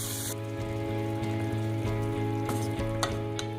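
Flat beans frying in a pan as ground masala is added for an Odia mustard-gravy dish, giving a steady, close sizzle with a constant hum and a few crackling pops, without any voice.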